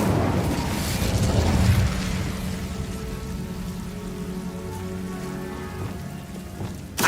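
Incendio fire spell in Hogwarts Legacy: a loud whooshing, crackling burst of flame that swells in the first two seconds, then settles into a sustained hissing burn that fades, ending with a sharp new crack.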